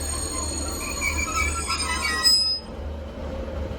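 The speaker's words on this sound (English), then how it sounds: "we got a few trains going by" Class 150 and 156 trains pass at Widnes, a steady low rumble with squealing wheels and ringing high tones that fade out partway through, heard alone.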